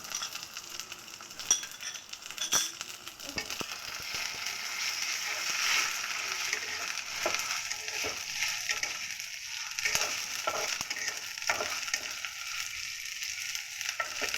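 Onions with ginger-garlic paste fry in oil for a shing fish curry, producing a soft, steady sizzle broken by occasional clicks and scrapes of stirring.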